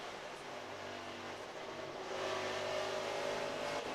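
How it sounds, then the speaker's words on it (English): A NASCAR Truck Series race truck's engine is heard on board at Indianapolis Raceway Park, revving and blipping under throttle as the driver plays with the gas, a steady mid-pitched drone that swells louder partway through. "You can hear Sauter playing with the gas"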